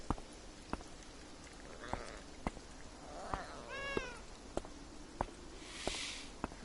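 A cat in the video game Beyond Eyes meows in a clear rising and falling call, set against a quiet backdrop of soft, regular footstep taps and a few fainter mewing sounds.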